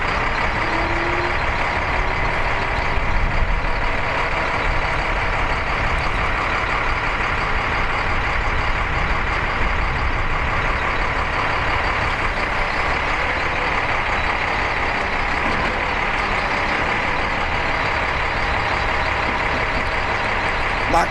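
A military heavy-lift truck at a maintenance support yard runs with a loud continuous engine rumble, while its reversing alarm beeps steadily and repeatedly throughout and a faint voice sits underneath.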